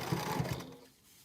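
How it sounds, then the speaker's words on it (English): A sewing machine stitches a fabric packing cube in a short, quiet burst of quick pulses that fades out within about a second. "Put a little back stitch there."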